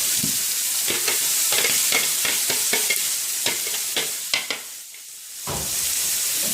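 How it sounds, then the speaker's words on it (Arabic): Steady hissing sizzle of liver frying in a pan as a blended sauce is poured on, with repeated stirring scrapes and clacks, a brief dip near the end before the sizzle resumes. "هجيب بقى الخلطه اللي انا ضربتها في الخلاط وهصبها عليهم كده"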